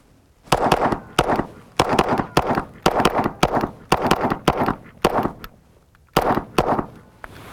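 Rapid pistol gunfire from a modern 15-round-magazine police duty pistol during an 18-round qualification course of fire, with a burst of close, loud shots in quick uneven clusters and a brief pause before the final pair.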